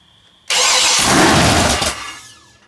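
A freshly built 427 big block engine in a garage cranks and fires up with a sudden loud roar, runs hard for about a second and a half, then fades as it dies out.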